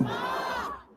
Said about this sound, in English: It's like a massive crowd.